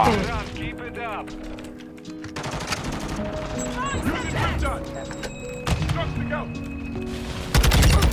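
Video game gunfire inside a shoot house, bursts of shots and rapid automatic fire mixed with game effects, while people talk over it throughout.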